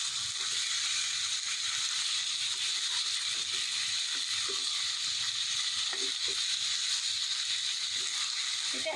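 Bangladeshi-style Chinese vegetables fry over high heat with soy sauce just added, a loud, dense, continuous hiss with scattered crackles and light clicks of stirring throughout.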